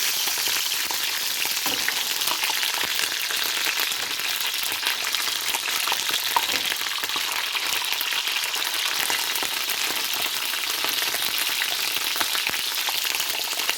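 Steady, loud sizzling of dolma peppers frying in a pan, continuous crackle and hiss with no talking.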